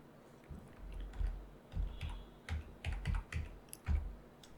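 Fingers type on a computer keyboard, a close run of uneven key clicks and thocks in short bursts, no voices present.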